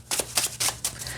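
Dungeons and Dragons tarot cards are shuffled in four or five quick, papery riffling bursts with brief pauses between them, close and fairly soft.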